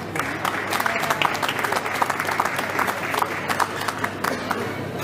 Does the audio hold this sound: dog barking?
no